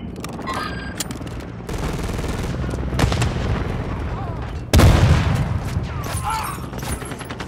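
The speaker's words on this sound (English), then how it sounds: "Watch your fire, Yota!" Gunfire in the video game Call of Duty: Modern Warfare II, with a dense stream of shots and booms and a heavy blast partway through, loud and close over background battle noise.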